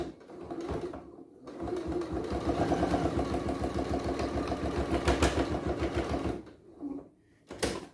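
A sewing machine stitches a fabric hand sanitiser pouch, a close, rapid mechanical chatter running for about five seconds, then two short bursts after a pause.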